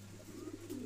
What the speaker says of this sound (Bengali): তিন পট্টি লাল গিয়ারের ম্যাকপাই কবুতর